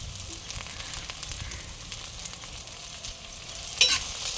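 Small onions frying in a pan for chicken curry while being stirred, with a steady soft sizzle and faint scraping throughout and a brief louder clink near the end.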